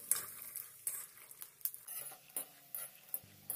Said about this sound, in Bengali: এবার আমি 50 গ্রাম চিনেবাদাম ভেজে নিচ্ছি।